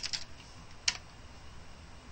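A few quick keystrokes on a computer keyboard as a command is typed, a short burst of clicks at the start and one sharper tap near the end, close and quiet in a still room.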